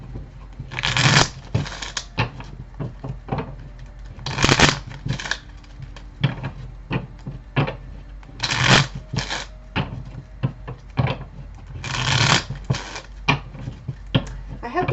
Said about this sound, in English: after I give these a quick shuffle